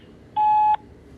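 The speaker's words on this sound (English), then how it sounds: "At the tone, please record your message." A single clear electronic voicemail beep sounds briefly before message recording, a steady tone of under half a second against a faint background.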